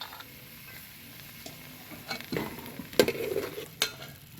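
Turmeric goes into a sizzling tempering (phodni) in a pan, with a soft, faint sizzle under scattered scraping and stirring clatters of a utensil against the pan that grow busier toward the end.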